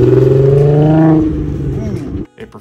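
A VR6 engine swapped into an MK6 car runs with a steady, droning hum that tapers off near the end, while someone talks over it.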